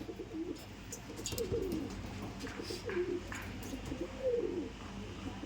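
Rampuri pigeons coo softly in a loft, giving several low, rolling calls that rise and fade over a steady background hum, with no talking.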